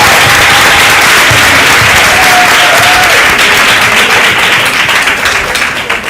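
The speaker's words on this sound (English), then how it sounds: "let's give them a round of applause again" A large crowd applauds loudly and steadily at a maritime open day event, a dense wash of clapping that holds for several seconds before easing slightly at the end.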